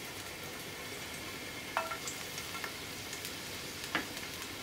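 Garlic frying in olive oil for sautéed spinach, a quiet steady sizzle and crackle with a few sharper pops and stirring scrapes.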